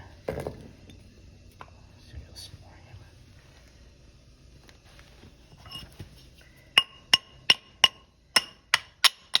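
Metal taps on a cast iron drain's lead and oakum joint during a shower drain repair: a quiet stretch with soft murmuring, then a rapid run of about eight sharp, ringing strikes near the end.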